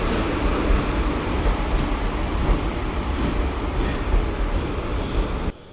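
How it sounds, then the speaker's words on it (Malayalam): The 56614 Nilambur Road–Shoranur passenger train rolls in with a steady, loud, broadband rumble of wheels and carriages that holds for several seconds. It stops abruptly near the end. "56614 എന്താ കയറി വരുന്നു. ഇതാണ് 56614 നിലമ്പൂർ റോഡ് ഷൊർണൂർ പാസഞ്ചർ."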